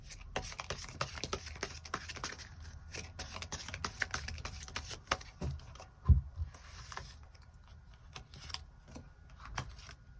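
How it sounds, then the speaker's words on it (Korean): Tarot cards are shuffled and drawn from a deck, giving soft, repeated close-up riffling and sliding rustles with light taps throughout, and no voice is heard. "추가 카드 뽑아보도록 하겠습니다"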